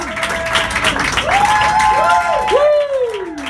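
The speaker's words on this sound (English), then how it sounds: "I want to get one more big round of applause for Christina Gomez." Audience at a stand-up comedy show applauding and cheering, a short burst of clapping from a crowd.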